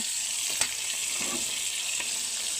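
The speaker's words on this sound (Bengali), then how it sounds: "মাছ ভাজা হয়ে গেল।" Rohu fish fries in a pan with a steady, bright sizzle of hot oil, a close continuous hiss broken by a few small pops and clatters, with no voices.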